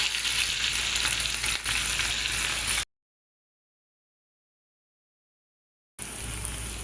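Cumin, urad dal and green chilli fry in hot oil with a dense, steady sizzle. The sound cuts to a long silent gap partway through, then the frying resumes. No talking.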